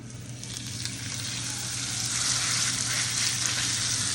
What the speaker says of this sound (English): So here's a sizzle.